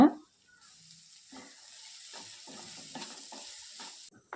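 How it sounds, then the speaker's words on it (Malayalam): Chopped onion and green chili sauté with ginger and garlic in a pan, a soft, steady sizzle with occasional stirring scrapes, heard close and moderately quiet. "അതിലേക്ക് നമുക്ക് ഒരു വലിയ സവാള ചെറുതായിട്ട് അരിഞ്ഞതിട്ട് കൊടുക്കാം ഒപ്പം തന്നെ രണ്ട് പച്ചമുളക് ചെറുതായിട്ട് അരിഞ്ഞത്"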